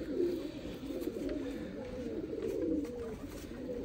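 A Choha Sialkoti pigeon pair coos softly and close by in a repeating, throaty, low burble that rolls on for a few seconds with no break.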